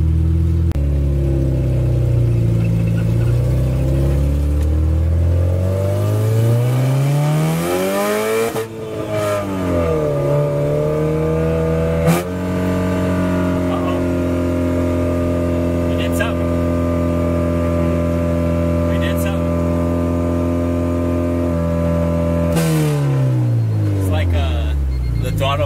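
A car engine with a stuck throttle cable revs and hangs at high speed for a long stretch, dips once and climbs again, loud and close, with people talking over it.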